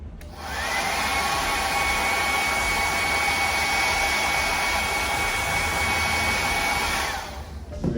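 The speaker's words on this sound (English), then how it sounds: "you don't have to have your hair dryer on there for long" A hair dryer blows steadily at close range for several seconds, drying a thin coat of paint on a pair of boots, then clicks off near the end.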